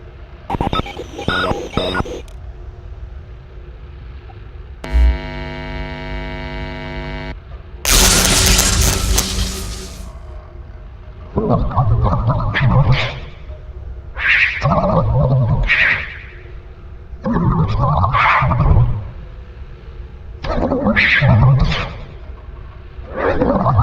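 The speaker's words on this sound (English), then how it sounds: "Let's zap her." In Five Nights at Freddy's Sister Location, Ballora is zapped: a buzzing electronic tone gives way to a loud, harsh, noisy blast. After it come several roaring, growling mechanical bursts in an irregular sequence.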